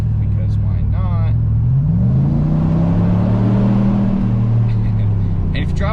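A 2021 Chevrolet Silverado with the 6.2 V8 and 10-speed accelerates hard under a bridge, its engine note climbing into a loud, rising roar that echoes, with a brief voice at the start and at the end.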